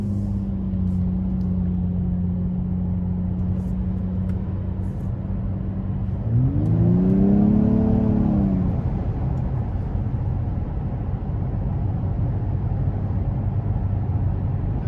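A 2022 Nissan Maxima SR with a naturally aspirated V6 drives on the road, a steady interior engine hum and road rumble that swells as the car accelerates and the engine note rises, then settles back to cruising.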